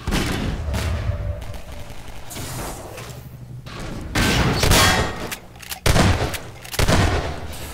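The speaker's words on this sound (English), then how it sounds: "Gonna have a mag fight here, and Quaz able to peek back around and get a headshot" Magnum gunfire in a Half-Life 2: Deathmatch tournament match, several sharp loud shots with bursts of other game noise in between.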